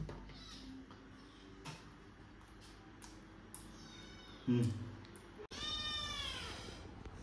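A cat meows a few times, drawn-out wailing calls close by, with some background noise and a brief thump before the last long meow.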